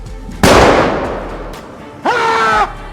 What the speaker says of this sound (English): With the sound of a gunshot and a roar